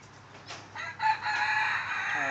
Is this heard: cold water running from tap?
no